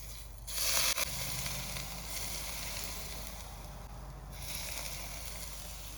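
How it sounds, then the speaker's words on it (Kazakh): Hot liquid oil poured over Korean-style cabbage salad, with a sharp close sizzle as it lands, then a softer crackling hiss that rises and fades in waves. "Одан соң біз үстіне ыстық сұйық май құямыз"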